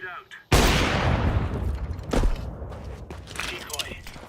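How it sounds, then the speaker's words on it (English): A grenade bursts in a first-person shooter, one sudden loud blast followed by a rumbling, crackling decay with scattered gunfire and a voice talking. "Grenade out."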